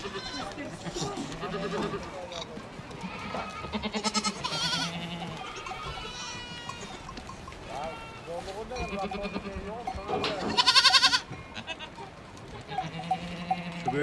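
Goats and their kids bleat on a farm as the young are reunited with their mothers. Repeated quavering bleats overlap throughout, some close and loud, with people talking at the same time.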